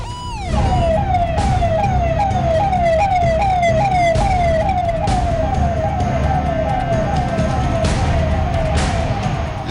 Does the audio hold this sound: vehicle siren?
yes